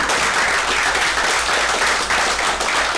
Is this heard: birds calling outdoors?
no